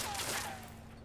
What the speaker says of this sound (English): Is that another machine gun?